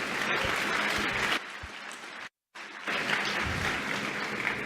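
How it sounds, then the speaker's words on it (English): Conference audience applauding a hardware security speaker, steady dense clapping that drops off and falls silent briefly, then resumes at full strength. "Just one more round of applause for James"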